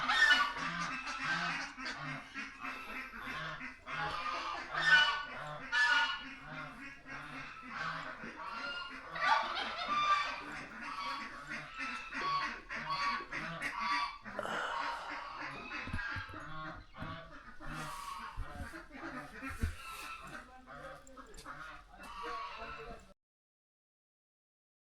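Geese honk repeatedly in a Sikkim bird park that also holds ducks and swans, a busy overlapping chorus of loud nasal calls close by, with occasional human voices mixed in before the sound cuts out near the end.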